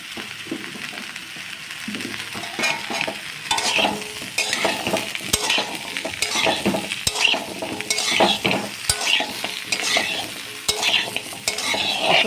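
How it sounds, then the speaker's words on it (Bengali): Pumpkin pieces and mixed vegetables are stirred in a sizzling frying pan, with a spatula scraping and clacking against the metal in irregular strokes over a steady background fry, close and fairly loud. "কয়েক টুকরো কুমড়ো আছে, এগুলো সব এখন আমি এর মধ্যে দিয়ে একসাথে নাড়াচাড়া করব।"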